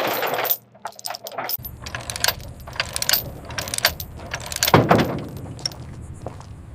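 Metal chain rattling, clinking and thunking as it is secured with binders on a transport carrying a Merkava Mk4 tank, a series of sharp jangles and knocks over low background rumble.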